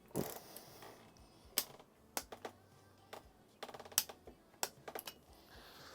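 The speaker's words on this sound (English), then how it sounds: "So I'm just going to torque these arms up." A torque wrench tightening the crank arms on a Specialized Sirrus hybrid bicycle being built into a gravel bike, giving sparse, quiet metallic clicks and ratcheting ticks at irregular intervals in a calm workshop.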